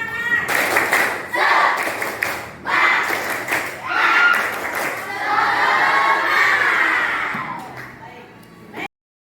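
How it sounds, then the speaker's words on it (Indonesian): A group performs a rhythmic spirit clap with shouting and cheering, loud bursts of claps and voices in a few waves, rising to a sustained cheer before stopping abruptly. "Ya, tepuk semangat."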